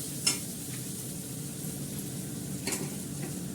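Hot water poured into masala that has been fried down in mustard oil, the oil left from frying fish; a steady close sizzle and stirring with a couple of brief sharp hisses and clinks, no voices.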